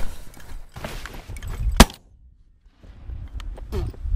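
Single sharp shotgun blast fired at a goose during a hunt in a wheat field, a loud crack amid rustling and movement, followed by brief quiet and more handling noise.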